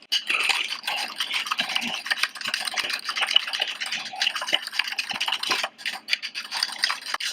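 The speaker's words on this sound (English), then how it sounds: "And then we stir this together." A spoon stirs sweetened condensed milk into a sauce for honey walnut shrimp, giving a continuous close, wet scraping and swishing with small clicks against the bowl.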